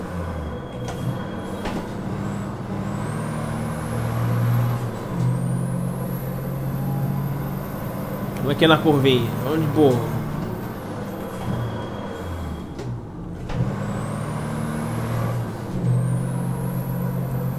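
MAN racing trucks roar around a Fórmula Truck video game circuit in Buenos Aires, a steady low engine drone with rising and falling pitch as they accelerate, while someone talks briefly over it.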